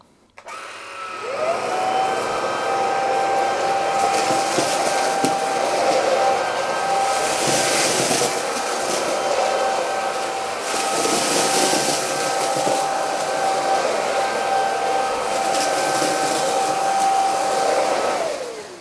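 A Kalado KCV01 cordless vacuum on medium setting runs steadily, picking up breakfast cereal from a laminate floor, a loud continuous whirring hum with a high whine, starting up and shutting down at the ends, with faint rattles of debris.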